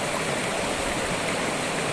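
A waterfall and stream along a rainy forest trekking path in Wayanad rush in a constant, dense roar, close and steady with no voices.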